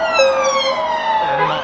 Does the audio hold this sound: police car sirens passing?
yes